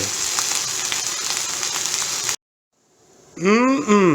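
Onions frying in a pan while being stirred, a steady crackling hiss that cuts off abruptly and is followed by a person talking.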